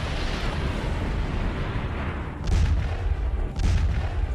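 Missile strikes hit a Ukrainian energy facility in Odesa, heard as a continuous rumbling roar with two heavier booming bursts partway through, sounding distant and muffled.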